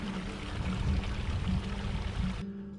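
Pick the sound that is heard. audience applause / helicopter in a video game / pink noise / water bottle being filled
water bottle being filled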